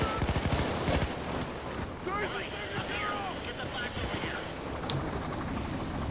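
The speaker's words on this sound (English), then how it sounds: "So you can tell that it's 2 shots with both the AMR and my Deagle." Gunshots from an AMR rifle and a Deagle pistol in the video game Payday 2, with a rapid burst of sharp reports at the start, then scattered game noise and whooshing effects while someone talks over it.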